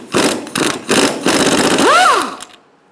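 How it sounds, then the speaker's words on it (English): A 13mm socket on a ratchet or power tool removing the nut on top of a rear shock absorber on a 2004–2009 Mazda 3, a loud close whirring buzz in short pulses, then a rising and falling whine before stopping. "you're going to get a 13mm socket, and you're going to take this nut off on the top"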